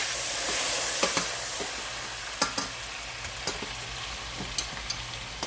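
Potatoes fry in corn oil and butter in a very hot pan, giving a steady, close sizzle with scattered sharp pops and spatters throughout.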